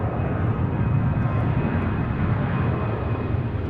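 A jet airliner roars down the runway on takeoff at Seattle-Tacoma airport, a dense, steady rumble with broad engine noise heard from a distance and holding level throughout.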